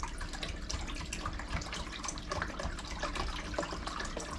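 Water pours steadily into a plastic bottle, the fifth being filled while setting up an aquarium, a continuous splashing rush that stays close and even throughout.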